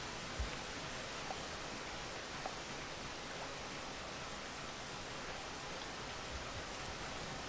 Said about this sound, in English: So once the rain eases up for a second,